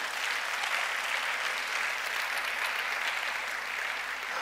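A church congregation claps together during a Sunday service, dense continuous applause from many hands filling the room, steady in loudness from start to finish without talk.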